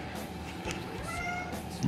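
A pet cat lets out a brief, faint meow over a steady indoor background hum.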